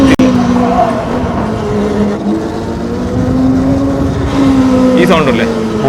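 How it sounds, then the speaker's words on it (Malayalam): An Ola S1 Pro Gen 3 electric scooter braking regeneratively gives a steady low electric hum and whine under road and wind rush, with a brief rising squeal of pitched tones near the end. "ഈ സൗണ്ട് അല്ലേ, റീജനറേഷന്റെ സൗണ്ടാണ്."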